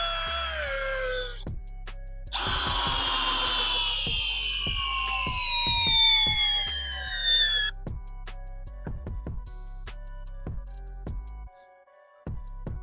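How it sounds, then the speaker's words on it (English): Hercules hammer drill in drill mode at speed 1, on a fully charged 4 amp hour extreme performance battery, whirring loudly in a steady run with a higher-pitched burst partway through, punctuated by sharp clicks and knocks. "that's the Hercules hammer drill"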